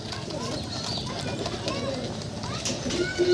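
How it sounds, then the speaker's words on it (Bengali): Pigeons coo repeatedly around a rooftop loft, some still perched and trying to land while fireworks unsettle them, over a steady, busy outdoor background. "কিছু কবুতর এখনও বাম থেকে নামেনি, বামেই আছে কিছু কবুতর নামার চেষ্টা করতেছে"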